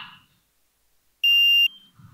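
A contestant's buzzer at a corporate business quiz final, one loud steady electronic beep lasting about half a second, close and clear in an otherwise quiet moment.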